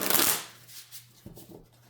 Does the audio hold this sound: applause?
no